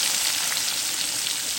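Onion frying in a hot pan gives a loud, steady, dense sizzle with no talking over it.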